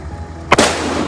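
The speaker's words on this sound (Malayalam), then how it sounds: "വെടിക്കെട്ടിൻ്റെ തുടക്കം, ചെറിയ ചെറിയ തുടക്കം മാത്രം." A single sharp firecracker bang bursts out nearby during New Year celebration fireworks, followed by a lingering crackling hiss that fades slowly.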